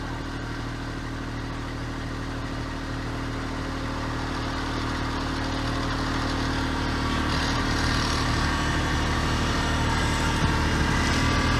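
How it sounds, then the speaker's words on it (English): A tractor engine chugs steadily at idle, a low mechanical rumble with light clatter, growing slightly louder toward the end. "Nope, just back up the tractor."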